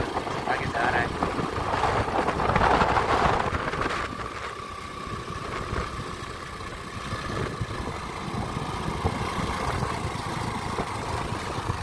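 Motorcycle engine droning steadily while riding along an empty, hot desert road behind a truck, with voices talking over the continuous engine and wind noise.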